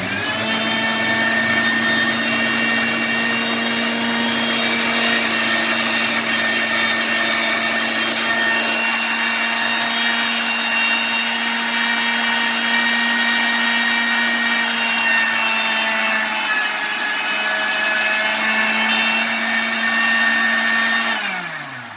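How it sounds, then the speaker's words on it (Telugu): A large mixer grinder whirs loudly and continuously, its high motor whine holding steady before the pitch drops briefly and it winds down at the end. "ఇది మిక్సీ పెద్దదిగా ఉంది"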